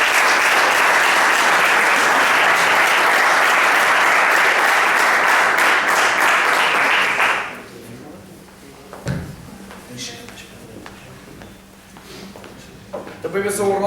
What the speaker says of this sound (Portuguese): Nossos aplausos para Carlos Santos.